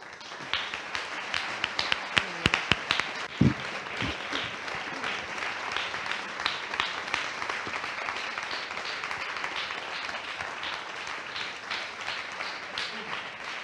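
Steady crowd applause with many hands clapping, dense and continuous throughout, with a few sharper louder claps near the start.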